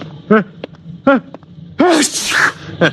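A man in an old-time radio drama lets out a sudden, close, breathy sneeze after a couple of short voiced gasps, with brief vocal sounds around it.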